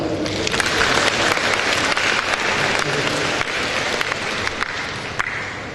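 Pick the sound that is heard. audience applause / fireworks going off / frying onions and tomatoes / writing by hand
audience applause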